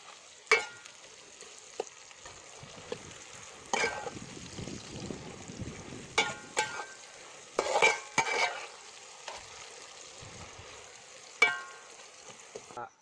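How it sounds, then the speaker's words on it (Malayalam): Onions sautéed with a pinch of salt for jackfruit biryani give a soft sizzle in the pan, broken by repeated sharp scrapes and clinks of stirring, close and fairly quiet, with no voices. "ഇതിന് ഉള്ളി ഒന്ന് വഴണ്ട് കിട്ടാൻ വേണ്ടി ഒരു ശകലം ഉപ്പ് കൂടി ഇട്ട് കൊടുക്കാം"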